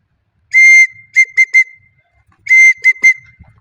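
A pigeon keeper's whistle sounds shrill and loud in two bursts, each a long blast followed by a few short sharp toots, with nothing else heard.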